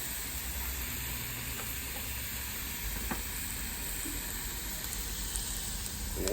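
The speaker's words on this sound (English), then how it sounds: "So we'll give that a few seconds to simmer." Burger mixture simmering on a South African braai, a steady close sizzle and hiss with a few faint clicks, no voices.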